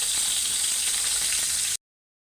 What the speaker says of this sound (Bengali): মাছগুলো একদম মুচমুচা করে ভাজবো।